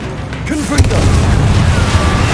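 A Confringo explosion spell blast in the video game Hogwarts Legacy lands as a single loud, deep boom, followed by a rumbling tail under busy combat noise.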